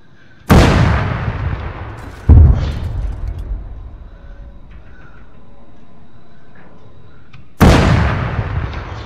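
Three heavy booming cannon shots from an M2A2 Slammer UP tank in the video game Arma 3, each sharp blast decaying into a long rumbling echo, loud and unaccompanied by voices.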